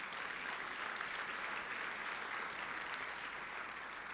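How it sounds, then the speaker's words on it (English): Steady, even applause from an audience thanking STEM partners at a school district's State of the District event, a dense wash of clapping held at a moderate, fairly distant level throughout. "Another round of applause, please."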